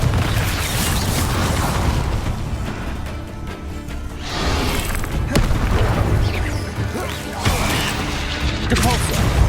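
Confringo fire spell blasts in Hogwarts Legacy during combat, a dense run of booming explosions and crashing impacts over constant battle noise, loud and close.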